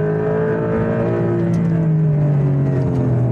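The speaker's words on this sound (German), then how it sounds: "Porsche fahren, hart bremsen, einlenken." A Porsche brakes hard and turns into a corner on the Nordschleife, its engine heard up close as a loud, steady droning whir whose pitch sags slightly as it slows.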